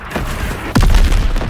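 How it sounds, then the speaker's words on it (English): A grenade bursts with a loud, low boom in the World War II shooter Call of Duty: World War 2, a single sharp blast followed by a rumbling tail over ongoing battle noise. "Grenade!"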